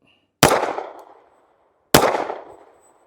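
Kimber pistol firing Winchester Elite Defender 95 gr .380 ACP at 5 yards: two sharp, loud reports about one and a half seconds apart, each decaying with a short ringing tail, with no talk.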